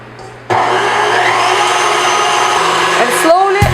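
Electric mixer whipping egg with honey, a steady loud whir starting abruptly and running continuously, with faint clinking near the end.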